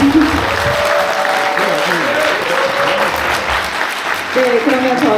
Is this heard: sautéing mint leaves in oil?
no